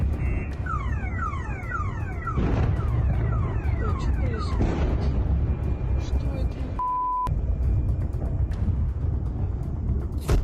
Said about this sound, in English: In Taganrog, there are arrivals and the sounds of a siren.